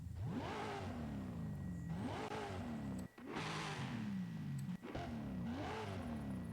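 Car engine in Forza Horizon 5 revving repeatedly with an upgraded exhaust, several rising rev sweeps that climb and drop back in a steady cycle, loud and close, with brief cuts between runs and no talking.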